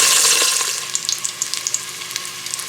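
Chicken skin browning and frying in its own rendered oil for Filipino ginataang manok, a steady close hiss of sizzling fat with small crackling pops throughout.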